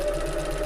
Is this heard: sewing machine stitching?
yes